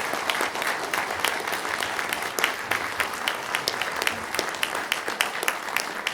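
Audience applause after a Christmas carol performance by a local music group in Poland, dense steady clapping from a small crowd lasting several seconds, fairly close and even throughout.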